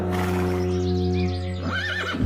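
A horse neighs in a drawn-out, wavering whinny, followed by a second rising call. The sound is loud and close, over a steady low background tone, with no speech.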